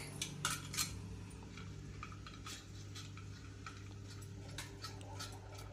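Paneer being grated by hand gives quiet, repeated scraping rasps and light metallic clinks in an uneven rhythm, close but soft over a low steady kitchen hum, with no talking.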